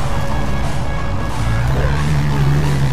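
A car's exhaust and engine in a mobile racing video game, heard from a rear chase view as a loud, continuous low drone with little change in pitch.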